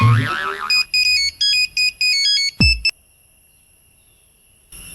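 A doctor's mobile phone rings with a clear, loud electronic melody of short beeping tones, ending abruptly, after a brief voice at the start.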